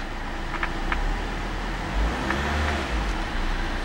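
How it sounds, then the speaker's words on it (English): Diesel engine of a 2012 VW Jetta TDI sedan running close by, with low rumbling revs swelling briefly twice over a steady idle, no talk. "I'm going to rev the engine."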